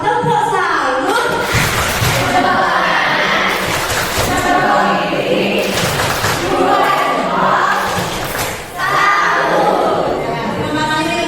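A teachers' audience performs the 'tepuk salut' clapping chant, loud group voices chanting together, punctuated by sharp unison claps roughly every two seconds.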